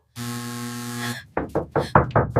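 A door-knocking sequence: a sustained tone is followed by a series of about six loud, close knocks on a door in an uneven rhythm, with no talking.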